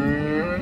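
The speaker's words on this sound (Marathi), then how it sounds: "शेतकरी मित्रांनो मुरा जातीची म्हैस आहे, तिसऱ्या व्याताची" A Murrah buffalo in her third lactation gives a single short, low, close moo at a buffalo livestock market.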